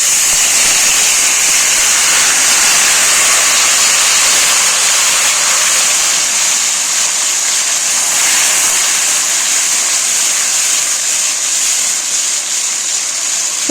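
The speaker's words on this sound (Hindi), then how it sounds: "बस आपने जल्दी इसमें पानी ऐड करना है।" Water poured into hot melted ghee and sugar while making pumpkin halwa, a loud continuous hissing sizzle with rushing, splashing texture that holds steady throughout, with no talking.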